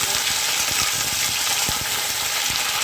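Spinach fries briefly in a pan without salt, giving a loud, dense, continuous sizzle with faint soft knocks underneath.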